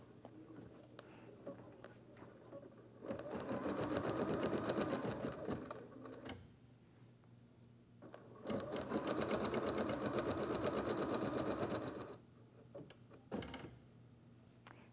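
An embroidery machine stitches satin stitches around a softie's snout in darker pink thread, its rapid mechanical whir running in two long bursts with quieter pauses and faint clicks between them.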